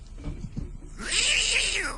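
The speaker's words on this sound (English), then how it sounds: "Brought his kitty to work" A cat meows loudly in a radio studio, a long drawn-out wail that follows a stretch of low background talk and dominates the second half.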